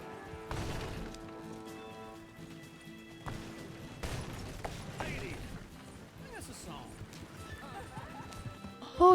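A horse in Red Dead Redemption 2 neighs and clops its hooves amid scattered game clatter and mechanical clicks, moderately loud with a sharp burst at the very end; a person talks over it.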